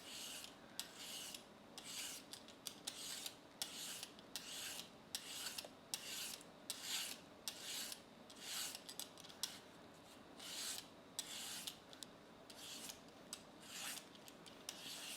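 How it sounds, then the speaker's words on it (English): A peeler scrapes along a cucumber, turning it into noodles, in repeated quick rasping strokes with brief pauses, close and fairly quiet, with no talking. "Then I'm just gonna start peeling and rotate my cucumber as I go."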